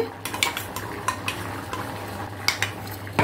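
A spoon scrapes and clinks against a pan in irregular strokes as ground masala is stirred into a chicken curry over a steady low sizzle, close and fairly loud, with no one talking.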